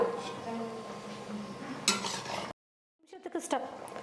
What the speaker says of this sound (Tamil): பொடியாக நறுக்கிய கொத்தமல்லி கொஞ்சம் தூவிட்டு கலந்து கொடுத்துக்கிறேன்.